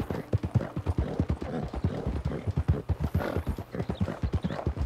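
A horse clip-clops at a brisk, even pace in the Red Dead Redemption 2 video game, close and loud, with a quick steady hoof rhythm throughout and no one speaking.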